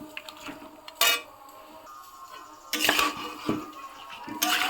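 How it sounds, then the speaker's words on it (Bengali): Raw local chicken being mixed by hand with turmeric, salt, oil and spices in an unlit kadai, with scattered metallic clinks and scrapes of the pan and utensils, some louder knocks between quieter rustling. "আমি কড়াইয়ের মধ্যেই মেখে নিচ্ছি ভালো করে"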